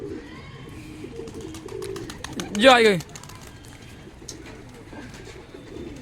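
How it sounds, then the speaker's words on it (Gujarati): Several pigeons coo softly and repeatedly, with one louder flurry midway, under a steady outdoor hum while a person speaks briefly. "કેટલા બધા છે કબૂતર"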